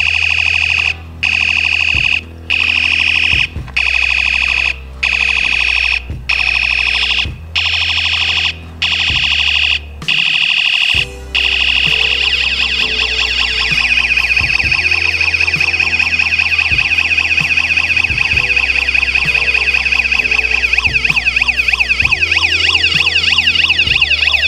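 An ICStation magnetic flash alarm module chip sounds loud electronic alarm tones, first a series of regular beeps, then after a short pause a continuous warbling siren-like wail.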